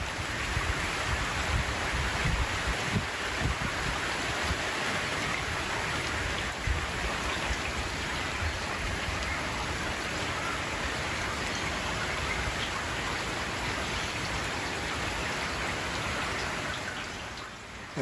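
Heavy rain pours steadily in Queensland, a dense, even hiss of drops drumming on surfaces that holds at the same loud level throughout, with no voices.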